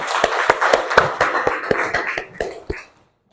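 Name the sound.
classroom applause for a student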